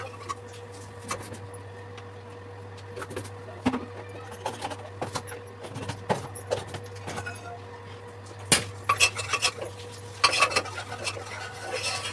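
Masala fries in a pan on a gas stove, where a low hum and soft sizzle sit under repeated metallic clinks and scrapes of a spoon stirring, growing busier toward the end.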